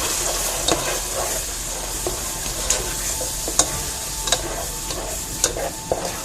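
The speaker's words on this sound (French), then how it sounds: "Je verse ma tomate là-dedans." Tomato poured into a pan of not very hot oil and frying, a loud steady hiss with regular sharp stirring scrapes and knocks of the spoon against the pan, no voices.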